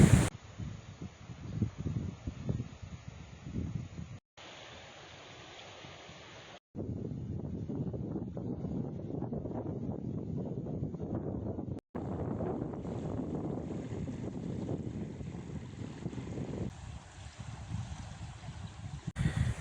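Wind gusts buffet the microphone while kayaking on the salty Tiligul lagoon, a rough, fluctuating roar of wind noise mixed with water sounds, with brief cuts between sections.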